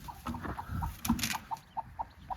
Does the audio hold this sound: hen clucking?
yes